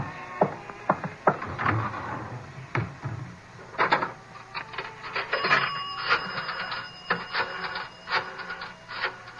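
A telephone being dialed inside a phone booth: a run of quick mechanical clicks and ratcheting rotary-dial whirs, close and fairly clear, with no voices over it.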